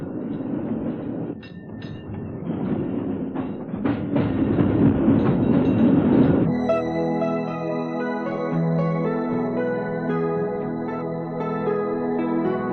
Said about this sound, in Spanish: Con el tranvía se llega hasta Nob Hill